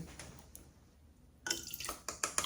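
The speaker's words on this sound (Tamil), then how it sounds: "அதில் கொஞ்சம் தண்ணி ஊற்றி பார்க்கலாம்" Water is poured into a coffee machine that is not working, entering as a sudden close splashing pour after a quiet stretch, with clinks and short drips.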